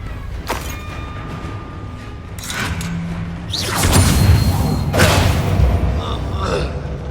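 A Bombarda spell explosion in Hogwarts Legacy: muffled booms and thuds with whooshing effects rise to a louder burst midway, amid steady combat noise, and voices appear briefly.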